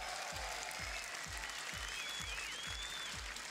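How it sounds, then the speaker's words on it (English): Steady crowd applause fills an arena at a Rocket League esports grand final, a continuous wash of clapping over a regular pulsing bass thump and faint tonal sweeps. "Can we get a round of applause for these guys?"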